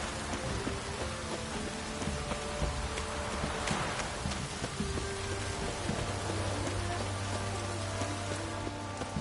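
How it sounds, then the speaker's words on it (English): Heavy rain in the video game The Witcher 3 falls as a steady, fairly quiet downpour, a continuous patter and hiss on surfaces with no voices. "This downpour's a bastard"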